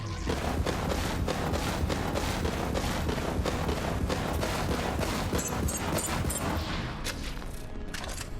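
The Krakatoa, a fire-element charge sniper rifle in Borderlands 3, produces loud, dense, continuous gunfire and explosive booms that fill the whole stretch with no pauses.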